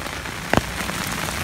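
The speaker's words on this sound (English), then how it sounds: "when it rains for 5 or 6 hours, there's just nowhere for the water to go." Heavy rain pours steadily over a garden during hours of downpour, a dense, even hiss across the whole stretch with a brief louder splash or knock near the middle; no voices.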